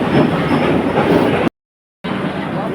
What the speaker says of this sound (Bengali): প্ল্যাটফর্মে চলে এসেছি দেখো ট্রেন যাচ্ছে